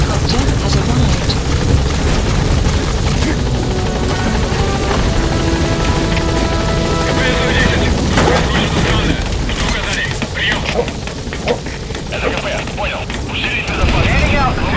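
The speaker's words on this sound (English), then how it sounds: "Support helicopter has arrived." Support helicopter in the Metal Gear Solid 5 video game arriving at a landing zone: a loud, continuous rotor thrum and engine roar that fills the whole stretch, with game radio voices and mechanical clatter mixed in.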